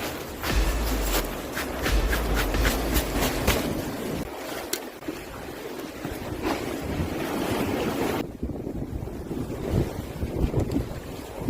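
Seaside wind buffets the microphone while fishing by the sea, a continuous rumbling roar with gusts and surf-like wash, loud and close throughout.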